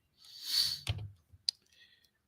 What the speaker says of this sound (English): Can you hear me clicking on this big girl computer?